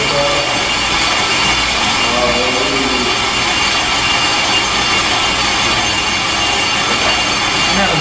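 Hunter on-car brake lathe cutting the front side of a brake rotor, a loud, steady grinding whir with metallic scraping that runs without a break.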